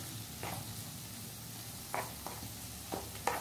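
Chicken fried rice sizzling steadily in a pan, with several short scraping strokes of a stirring spoon breaking through the low frying hiss.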